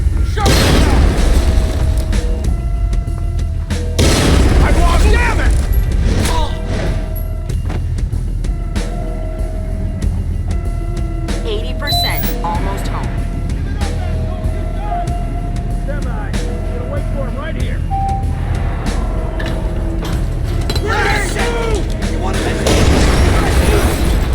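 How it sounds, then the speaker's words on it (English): A grenade goes off amid gunfire in Splinter Cell Conviction, a deep booming blast with low rumble and scattered shots, followed by further thuds and mechanical clatter over sustained combat noise. "Grenade, get down!"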